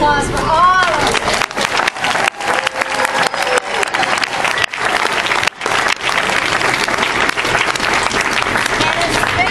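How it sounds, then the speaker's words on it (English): Loud, sustained audience applause fills a concert hall after a winter musical performance, dense clapping with crowd noise running throughout without a break. "Let's have another round of applause for all of you."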